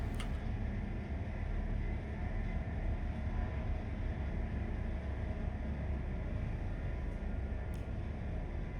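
A video game train from Train Life: A Railway Simulator runs with a steady, low rumbling drone of wheels and engine, continuous and even throughout at moderate level, with no voices.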